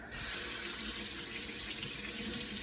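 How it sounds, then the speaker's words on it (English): Tap water runs steadily into a sink as lemons are rinsed under the stream, a continuous close splashing rush that starts abruptly and holds even for the whole stretch with no voices. "let me wash my lemons off"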